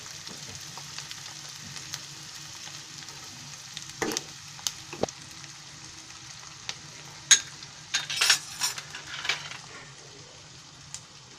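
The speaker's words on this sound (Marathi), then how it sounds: "कांदा चांगला तेलामध्ये असं भाजून घ्यायचा पहिला." Onion fries in oil in a pan for a bean vegetable dish, with a steady close sizzle and occasional sharp scrapes and clinks of a spoon stirring.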